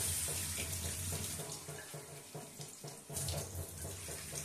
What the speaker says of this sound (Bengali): তাহলে আমার 4 কাপ জল দিতে লাগবে।